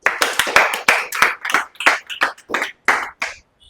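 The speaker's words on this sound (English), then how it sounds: "Please clap for Renuka ma'am." An audience at an indoor talk bursts into applause for someone speaker being called on stage, a short round of fairly close, uneven clapping that fades out after a few seconds.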